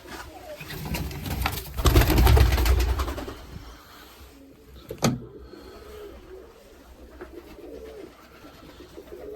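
Breeding-loft pigeons, including an old pair of a red hen and a yellow cock, coo in low repeated throaty rolls, joined early by a loud rustling burst and a sharp knock midway.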